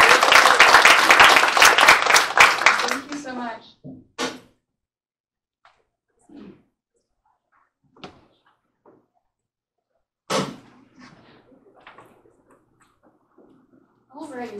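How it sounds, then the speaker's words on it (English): Audience applause at a UN Water Conference session on global water challenges, honoring a panel moderator; dense clapping fills the first four seconds, then fades into scattered thumps and quiet room noises. "So please give Molly a round of applause for moderating this next session."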